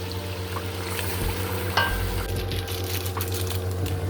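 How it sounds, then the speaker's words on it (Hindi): Biryani ingredients fry in a home kitchen pan with a steady low sizzle and occasional stirring scrapes and taps, close and even throughout. "अभी भून रही हूँ इसको मैं।"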